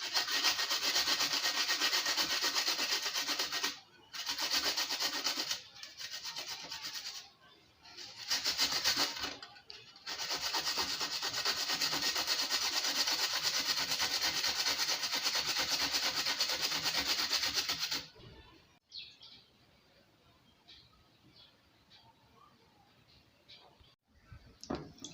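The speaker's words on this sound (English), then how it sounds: "I would have blended it, but I want to grate it with a grater just to exercise my hand a bit." Fresh ginger is grated by hand on a kitchen grater, giving close, loud rhythmic rasping strokes in long bursts with short pauses, then a quieter stretch of faint handling noise.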